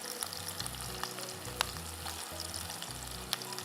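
Broken green chillies sautéing in a hot pan for mutton pulao, a quiet, steady sizzle with a few sharp crackles and pops, close and alone without speech.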